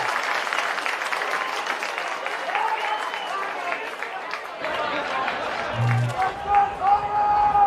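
Crowd applause and cheering at an Australian football match between Glenelg and Adelaide, a steady broad wash of clapping from a large stadium crowd, swelling slightly toward the end, with a commentator's voice over it.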